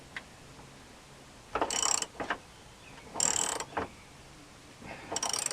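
A wrench slowly turns a rusty bolt inward, giving three short bursts of ratcheting, grinding clicks separated by pauses, close and moderately loud with no talk.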